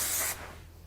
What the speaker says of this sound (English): So I'm just going to use a quick bit of spray.